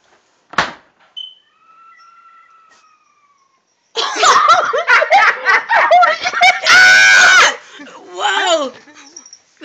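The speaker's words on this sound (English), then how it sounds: "She opened the refrigerator, and when she shut it, it screamed." Refrigerator door shutting, followed by a brief shrill, wavering screech, then loud, excited voices shouting and laughing in the room.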